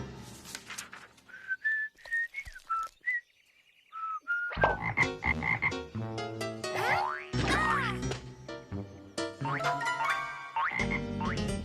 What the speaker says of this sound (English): This frog, it belongs to Pepito